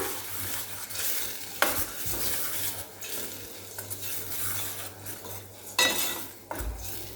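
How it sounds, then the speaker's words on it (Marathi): A spoon stirring ground masala paste for moong aamti in a cooking pan, with soft scraping and occasional metal clinks over a low sizzle, fairly quiet and steady with no speech. "आता हे व्यवस्थित मिक्स करून घेऊया"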